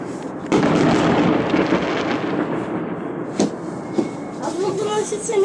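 New Year 2017 fireworks over Kharkiv burst with a loud crackling barrage, followed by a few sharp separate bangs, while people talk nearby.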